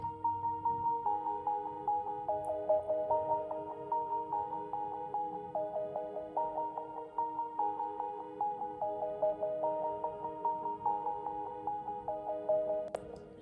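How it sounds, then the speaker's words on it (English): A soft plucked harp line repeats a gentle melodic pattern, notes rippling evenly and steadily throughout. "Then I added this sort of a harp that sounds like this."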